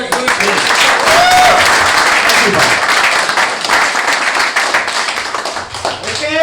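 An audience at a Gujarati community gathering claps in a loud, dense burst of applause that carries on steadily for several seconds, with some cheering mixed in.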